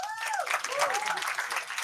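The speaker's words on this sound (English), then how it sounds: "Applause for Arpita appa." An audience at a quiz event gives scattered, moderate applause that continues steadily beneath a speaking voice.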